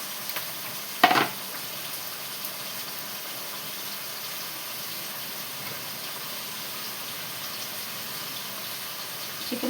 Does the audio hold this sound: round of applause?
no